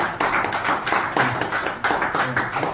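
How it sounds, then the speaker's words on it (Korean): A crowd at a research institute meeting claps steadily, dense overlapping hand claps filling the room for a few seconds. "우리 박수 한번 주세요"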